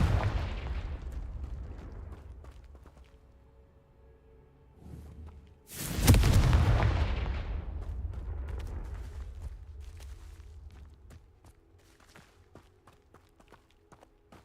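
A sudden loud blast from the Confringo fire spell in the Hogwarts Legacy video game erupts mid-clip and trails off into a rumbling decay, preceded by quieter game ambience and footsteps.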